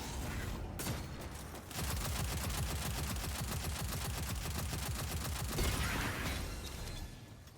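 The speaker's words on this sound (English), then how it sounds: "I have my golden gun back, so I will just super one of them" Rapid continuous gunfire roars from a Destiny 2 firefight during the Corrupted Grandmaster Nightfall, loud dense bursts nearly the whole time with a brief gap early on and no voices over it.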